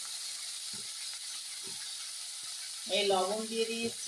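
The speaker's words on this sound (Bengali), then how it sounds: "এই টমেটো কুচি, একটু নেড়ে দিচ্ছি বন্ধুরা।" Chopped tomato and onion are stirred in a hot pan for a home-cooked dinner, giving a steady, soft sizzling hiss throughout, with a voice speaking briefly near the end.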